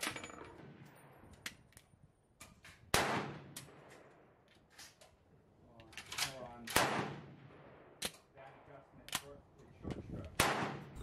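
Shots from a Danish Krag Jorgensen rifle firing mild reloaded cartridges, several sharp, loud reports at irregular intervals with bolt-action clatter and mechanical clicks between them.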